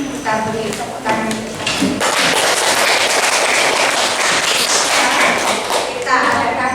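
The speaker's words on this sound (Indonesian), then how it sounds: "Kita beri tepuk tangan." A classroom of students clapping in applause, a dense, loud patter of many hands that swells after a short stretch of speech and continues steadily to the end.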